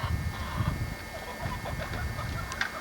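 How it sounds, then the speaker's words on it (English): Ten chickens cluck in a farm coop on a ranch in 1988, a few low clucks rising over a steady faint background, with occasional brighter squawks near the end. "We've got a total of 10 chickens in here."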